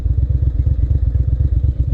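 A carbureted 2001 Ducati Monster 600 engine revving up close, a loud, throbbing twin-cylinder rumble with a fast, even pulsing beat and no voices.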